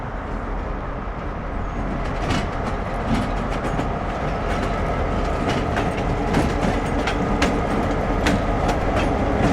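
A 1974 ex-Southern Railway high-nosed NS 5142 diesel locomotive of 2,000 horsepower rolls through a rail yard, a steady loud rumble with repeated clickety-clack wheel beats and metallic squeals throughout, no voices.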